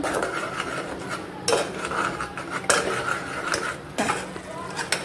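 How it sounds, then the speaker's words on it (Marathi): A spoon scrapes and stirs masala frying in oil in a metal pan, with steady sizzling and several clinking scrapes against the pan, close by and moderately loud. "आणि आता मसाला हा चांगला परतवून घेऊया तेल सुटेपर्यंत।"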